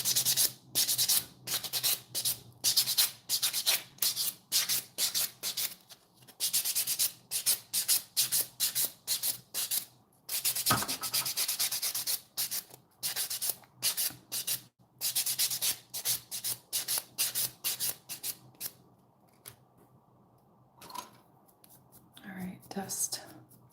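Fingernails are buffed with a new nail buffer, close rapid rhythmic scratchy rubbing strokes in bursts, with a brief pause midway and soft speech near the end.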